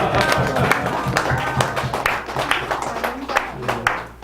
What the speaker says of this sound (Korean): 우리가 박수하고 생기를 보냅니다